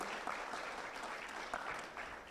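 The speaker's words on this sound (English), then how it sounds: "Round of applause for Suzanne." A live audience applauds a speaker at a business event on Texas auto manufacturing, with steady, dense clapping sustained throughout at a moderate distance.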